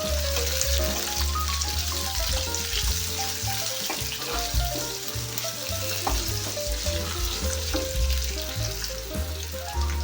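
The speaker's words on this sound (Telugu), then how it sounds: "సో ఇది కొంచెం రంగు మారేంత వరకు వేయించుకుందాం" Oil crackles and sizzles in a pan while ingredients fry for chicken thokku biryani, a dense continuous hiss with scattered pops and clinks from stirring, no voices over it.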